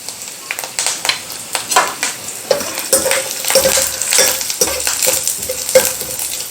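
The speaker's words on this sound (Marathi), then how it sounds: "लसूण छान असा लालसर होईपर्यंत परतून घ्यायचा" Garlic and curry leaves being sautéed in a pan for a sprouted mung bean soup: loud, uneven sizzling with frequent clanks and scrapes of a spoon against metal, close up.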